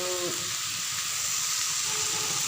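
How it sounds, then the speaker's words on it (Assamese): Cabbage fries in a pan with a steady, close sizzle and hiss that holds evenly throughout, with a faint tone briefly sounding at the beginning. "এতিয়া ৰাতিৰ কাৰণে ইয়াত কবি ভাজি আছোঁ"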